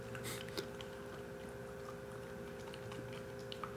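A dog crunches on a crisp homemade meat treat, with faint, irregular crackling bites and chewing clicks against a quiet room hum.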